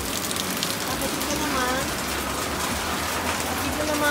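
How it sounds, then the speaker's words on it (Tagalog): Rain falls steadily on plants in a home garden, a continuous close hiss and patter of drops on leaves throughout, with a voice talking faintly underneath. "Okay, enjoy na yung rain."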